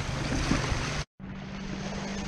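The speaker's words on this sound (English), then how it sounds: "because of the amount of wind and wave action that we've got going here" Steady wind buffeting and wave wash at a shoreline during land-based lure fishing in South East Queensland, a loud continuous roar broken by one brief dropout, with no talking.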